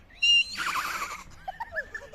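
A voice imitates a horse, giving one loud, shrill whinny that wavers and trails off, followed by a few quiet squeaky vocal bits.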